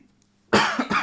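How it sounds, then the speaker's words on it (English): A single sudden, loud cough bursts out after a quiet moment, close to the microphone, with a second harsh push right behind it. "something of a cough going"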